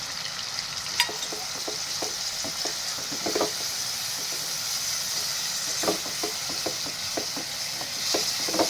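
Dry coconut masala hits a hot pan for a Konkan-style fresh cashew curry, giving a steady, close sizzling hiss broken by scattered clicks and spatters of stirring throughout, with no talk.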